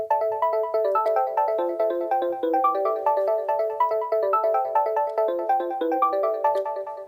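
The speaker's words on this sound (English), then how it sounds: "So this melody is coming from Serum. It's actually one of my presets from a preset pack called Melon Serum Volume 1." A house main melody from a Serum FM synth preset plays as a bright, plucky repeating pattern of quick notes with a pumping, sidechained rhythm, loud and up front throughout with no voices.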